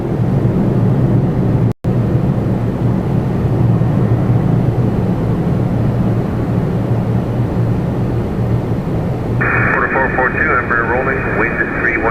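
A Jazz airliner takes off from runway 24 right at Toronto Pearson, a loud, steady broadband roar that runs throughout with a brief dropout early on and a rising whine near the end, while voices talk underneath.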